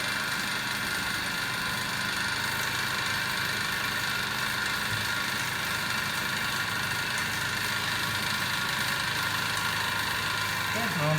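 DC motor running under speed control in an electrical machines lab, a steady mechanical hum with constant tonal bands and no change in pitch from start to finish.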